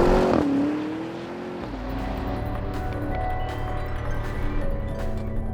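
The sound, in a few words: Porsche Cayenne Turbo GT V8 engine revving in a video game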